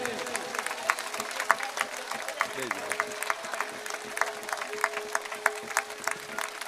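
Applause from a political rally crowd in Banaskantha, Gujarat: sustained, fairly loud clapping with scattered sharper claps, mixed with amplified speech from the stage.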